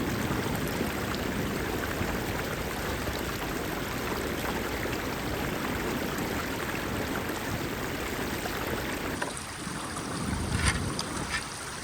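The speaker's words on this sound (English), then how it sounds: "I've redirected the water just a little bit so there's not quite so much flowing through here" Water rushes steadily through a redirected stream channel outdoors, a dense, continuous close-up flow that shifts slightly near the end with a few splashes.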